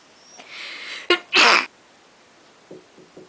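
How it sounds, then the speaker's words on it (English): One sneeze bursts out loudly after a short inhaled build-up, with a few faint soft sounds afterward in a quiet room. "I need to sneeze."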